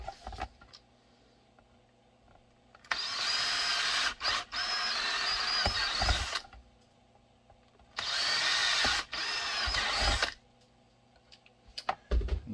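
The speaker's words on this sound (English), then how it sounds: "We will drill those holes." A power drill runs in two loud, close bursts of a few seconds each, separated by a quiet pause with faint handling clicks.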